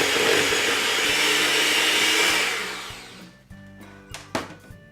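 A stand or hand mixer beats cream cheese and sugar for a cheesecake batter, running loud and steady for about three seconds before winding down, followed by a few light clinks.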